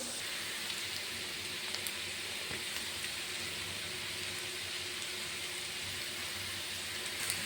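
Onions fry in a pan with a steady, even hiss that resembles rain, with occasional faint ticks and pops throughout and no voices.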